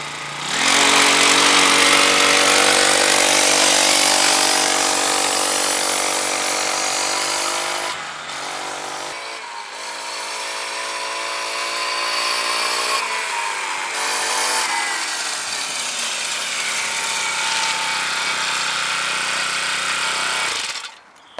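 A cheap GB Moto mini bike's small engine revs loud and buzzy while being ridden, holding a steady high drone, dropping briefly around the middle, then climbing again in pitch before cutting off near the end.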